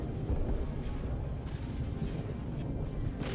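Space station weapons firing in a Star Wars Empire at War battle, heard as a dense, continuous rumble of distant booming shots and blasts that keeps going for the whole stretch.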